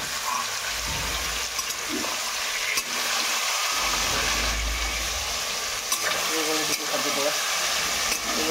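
Chicken frying in oil in a deep kadai (wok), a steady broadband sizzle with occasional stirring scrapes and clatter running throughout.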